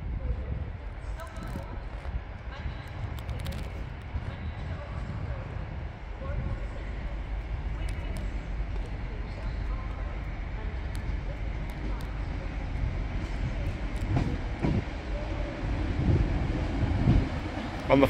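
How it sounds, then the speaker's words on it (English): A delayed EMR Regional diesel multiple unit, number 158964, pulls into Sheffield station on its way to Liverpool Lime Street, a continuous low rumbling drone that swells and grows louder toward the end. "Here comes the delayed 1841 Eastern EMR Regional Service to Liverpool Lime Street"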